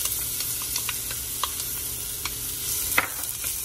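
Onions sautéing in olive oil in a pan give a soft continuous sizzle, with light stirring taps and scrapes scattered throughout and no talking.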